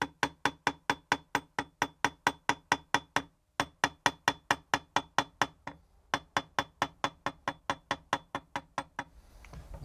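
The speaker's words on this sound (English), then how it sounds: "First thing to do is to remove the flux. Series of light taps." Light hammer taps on a 2.5mm wire rod to knock off flux. The strikes come as a close, even run of crisp metallic blows with one short pause, then slow toward the end.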